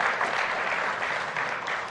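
An audience at a televised Indonesian charity event for the Red Cross, Palang Merah Indonesia, on TV One, breaks into steady, full applause, a dense, even roar of clapping that holds throughout.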